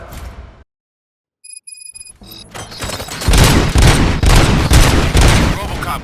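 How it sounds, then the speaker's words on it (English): Gunfire in the Robocop: Rogue City video game, a dense, loud burst of rapid shots that follows a brief silence and a few electronic tones. "Gunshots? What's going on?"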